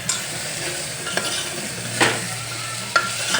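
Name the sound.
guvar dhokla and vegetables sautéing in a pan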